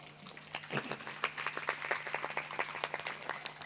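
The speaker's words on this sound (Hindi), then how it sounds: "हर उस कार्यकर्ता के लिए एक बार फिर से और जोरदार तालियां हो जाए" Applause from the audience at a Shrimad Devi Bhagwat Katha religious discourse, a burst of fairly faint clapping lasting a few seconds over a steady low hum, with a brief voice at the start.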